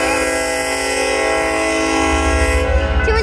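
A train horn blares loud and close in one long sustained blast over the rumble of rolling rail cars, fading slightly near the end.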